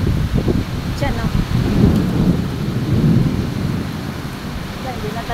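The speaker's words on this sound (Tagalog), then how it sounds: "Maulan dito. Makulog-kulog. Makidlat-kidlat." A thunderstorm with heavy rain in Singapore: a steady downpour hisses throughout while low rolls of thunder rumble, and faint voices sit under the storm.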